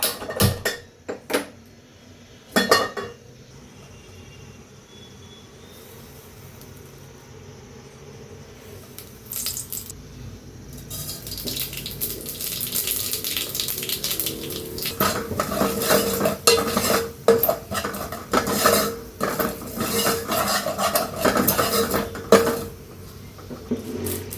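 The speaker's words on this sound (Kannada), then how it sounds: "ಈ ಜೀರಿಗೆ ಮೆಣಸನ್ನ ಸ್ವಲ್ಪ ಆಯಿಲಲ್ಲಿ ಈ ಥರ ರೋಸ್ಟ್ ಮಾಡ್ಕೋಬೇಕು" Cumin and pepper roast in oil in a pan, stirred with clinks and scrapes, turning into a steady, louder sizzling hiss with busy stirring in the second half.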